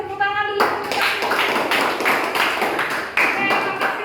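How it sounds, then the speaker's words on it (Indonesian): A group gives a short round of applause and claps in a classroom presentation setting, starting just after a person's speech or singing voice ends. The clapping is dense, close and moderately loud, with a brief lull before a second burst. "terima kasih, tepuk tangan dulu."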